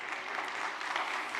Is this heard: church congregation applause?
yes